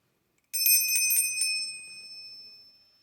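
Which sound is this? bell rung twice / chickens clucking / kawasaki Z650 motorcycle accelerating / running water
bell rung twice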